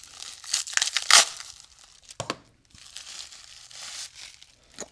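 A mail package being cut open, with bursts of crinkling and tearing cardboard and plastic wrap, loud near rustles early, a sharp rip in the middle, then softer continuous rustling.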